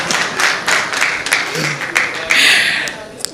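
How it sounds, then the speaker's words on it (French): Scattered clapping from a small audience at a church gathering, uneven bursts of hands with some voices murmuring underneath. "Pasteur Mike, il y a même des applaudissements."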